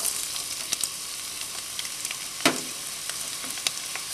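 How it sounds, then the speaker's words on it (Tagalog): Garlic fries in two tablespoons of cooking oil in a wok, giving a steady hissing sizzle dotted with sharp pops and crackles, close and alone with no voices. "lalagay natin itong garlic"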